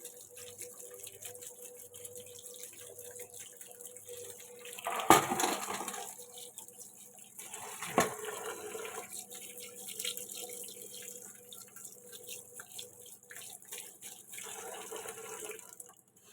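Cold water runs steadily from a kitchen tap over cooked rice, a continuous hiss and splash broken by two brief knocks partway through.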